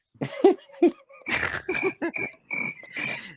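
A voice imitates strong crickets rubbing their legs together, giving a string of short croaky, raspy bursts at close range with brief gaps between them.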